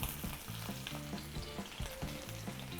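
Four floured hake steaks frying in vegetable oil in a non-stick pan over medium-high heat, a dense, crackling sizzle with rhythmic bubbling pops, close and continuous.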